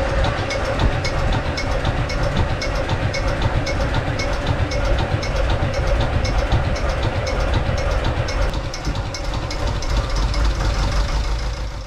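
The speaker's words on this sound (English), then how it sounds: "we swapped two of our pipes and prepared to start up the engine again" A sailboat's inboard engine running after a heat exchanger repair, a loud, steady, close mechanical knocking and rumble that continues without a break.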